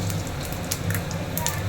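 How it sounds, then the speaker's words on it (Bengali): Panch phoron spices sizzle in a hot wok (kadai), making a steady, close hiss flecked with small crackles and pops that carries through without pause. "এই কড়াইতে আমি প্রথমে পাঁচফোড়ন দিলাম,"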